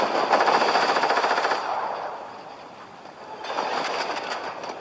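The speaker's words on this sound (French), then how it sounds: "C'est le bruit d'un avion" A loud, rumbling airplane engine roar in Fortnite Battle Royale, with rapid rattling texture, swelling, dipping in the middle, then rising again, with no talking.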